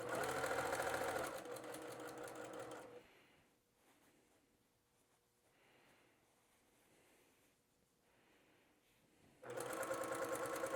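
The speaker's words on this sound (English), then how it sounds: "I let it head right into the sewing machine." Sewing machine stitching patchwork fabric seams for a drawstring bag, a loud steady run of rapid stitching at the start and again at the end, with a quieter pause between.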